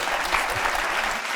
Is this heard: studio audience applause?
yes